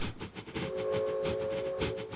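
A model railway train pulls out on a Manchester-themed layout, with rhythmic clicking and rumbling of wheels over track and a sustained whistle-like tone in the middle, fairly quiet and close.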